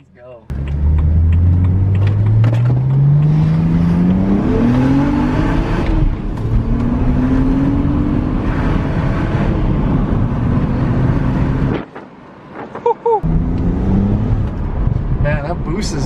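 A tuned BMW 135i with the N54 engine and an upgraded chargepipe pulls hard under boost. Its loud, rising engine note climbs through the gears with short dips at the shifts, heard from inside the car.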